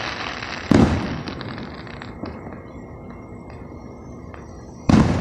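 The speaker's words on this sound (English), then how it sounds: "It's a big fireworks show." Fireworks at a big outdoor display: two sharp loud booms a few seconds apart, each followed by crackling, fizzing pops and distant rumbling echoes between them.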